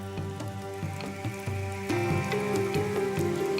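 Heavy rain falls in the Cooper River lowlands of an Australian rainforest, a dense steady hiss under a layer of sustained musical tones.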